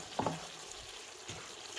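A chicken and potato curry is stirred in a pan, with a soft scrape of the spoon and a faint sizzle. The pan sound comes in two brief strokes and stays quiet throughout.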